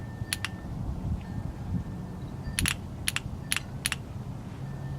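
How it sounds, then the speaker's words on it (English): An EVAP emission system solenoid clicks as voltage is applied, giving a series of sharp, close, dry clicks, some doubled, spread over a few seconds above a faint steady hum. "apply voltage to the sensor. So I hook it like this, and it's supposed to make a click."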